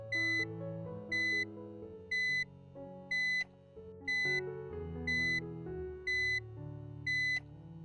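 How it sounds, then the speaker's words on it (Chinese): An uninterruptible power supply's low-battery alarm sounds in quick, evenly spaced bursts, eight sharp high beeps over a steady low hum, close and clear. "可是如果今天呢，它是急促的哔哔声的话，"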